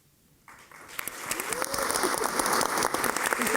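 Audience applause at a literary gathering in Mexico, starting abruptly after a brief quiet and swelling into dense, steady clapping that grows louder and continues to the end.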